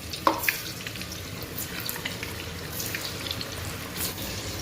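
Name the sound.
second frying of Manchurian balls in hot oil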